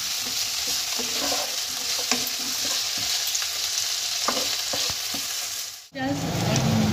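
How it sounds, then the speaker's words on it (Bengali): Chopped spring onions fry and sizzle steadily in a hot pan, with soft scraping and clicking as they are stirred. A brief drop in the sizzle comes near the end before it resumes loudly. "এবার এটা ভালোভাবে ভেজে নেব লাল লাল করে।"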